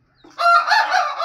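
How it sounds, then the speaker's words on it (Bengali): A black, long-tailed rooster gives a single loud, close crow, a short harmonic call rising sharply after a faint lead-in and holding for about a second. "লেজঝোলা মুরগা কালো"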